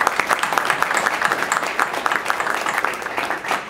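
An audience at a community leaders' security meeting gives a burst of applause, with clear individual claps at moderate loudness throughout.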